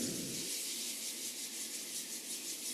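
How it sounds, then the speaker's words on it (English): Palms rubbed together during a slow taiqigong flow, a soft, steady brushing friction that runs continuously, quiet and close, with no talking. "Rub the palms together."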